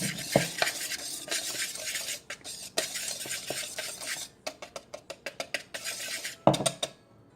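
A spoon stirs garlic powder, salt and garam masala together in a small bowl, giving close, steady scraping and clinking against the bowl with a few sharper taps, then a brief pause near the end.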